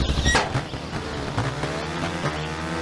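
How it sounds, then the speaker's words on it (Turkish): Revving engine of a motorcycle in a cheap PC racing game, a droning whine with rising and falling pitch and a brief squeal near the start, fairly quiet and continuous. "şöyle bir motor siklet oyunu buldum"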